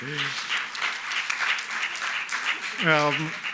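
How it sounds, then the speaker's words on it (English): Audience applause fills a lecture hall at a cultural health event, steady broadband clapping throughout with a brief voice rising near the end. "Big applause for that translation"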